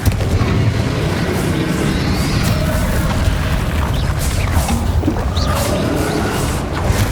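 Repeated spell blasts and booming explosions from the Confringo fire curse during a final boss battle in the video game Hogwarts Legacy, dense and continuous with loud bursts over a constant rumbling roar of combat.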